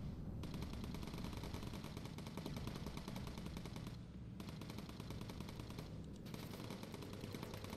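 Tail gun of a bomber in the game Bomber Crew firing a long, unbroken stream of rapid machine-gun bursts, dense and rattling with only a couple of very short gaps.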